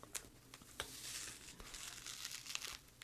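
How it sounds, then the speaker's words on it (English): A new A5 six-ring binder planner is opened, giving a crisp crinkling and rustling of paper and plastic wrap with a few sharp crackles, close and fairly quiet, with no talk. "Is that not satisfying when you open a new planner and it has that crisp sound?"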